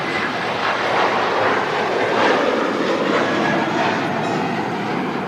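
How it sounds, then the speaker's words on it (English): A Ryanair airliner at Manchester Airport, a broad, steady jet engine roar that stays loud and even throughout, with no talking. "This is off to Girona,"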